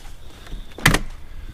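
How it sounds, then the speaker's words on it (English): A damaged cargo vehicle's door swings shut with a single short, solid clunk, moderately close, amid faint background noise. "let me swing this door"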